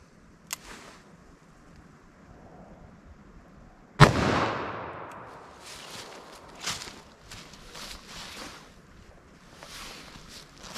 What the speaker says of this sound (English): So let's see what we get here on our plain clear ballistic shot with our 357 Magnum.